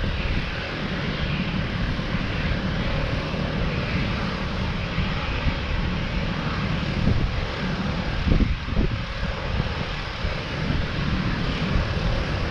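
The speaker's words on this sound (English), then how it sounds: "We are taxiing in British Airways." A British Airways Boeing 737 airliner taxiing at Cape Town International Airport, its jet engines producing a steady, fairly loud broadband roar with a brief swell near the end.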